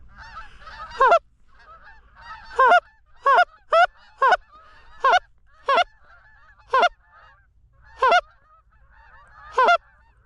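Canada geese honk repeatedly, loud and nearby, in separate bursts a second or two apart over a low steady background hum, during a goose hunt.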